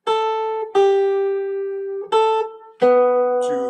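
A jazz ballad played as chord melody on what sounds like guitar: four sustained, ringing notes or chords, each struck cleanly and left to decay, heard alone and close.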